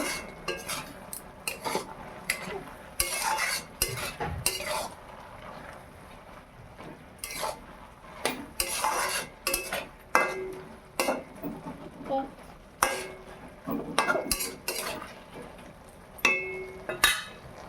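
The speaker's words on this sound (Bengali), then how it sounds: "শাকটাকে আমি এইভাবে একটু নেড়ে নেব।" Note shaak greens being turned in a pan with a metal spatula, irregular clanks and scrapes against the pan in quick bursts, close and moderately loud, no voices.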